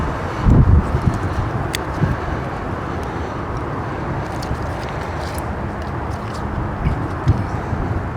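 Outdoors in winter, wind gusts buffet the microphone as a broad, steady rushing roar with a few louder thumps, constant and close for the whole stretch.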